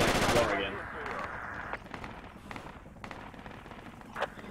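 Gunfire in the tactical shooter Project Reality crackles in bursts, a loud close shot at the start followed by scattered, fainter distant rounds.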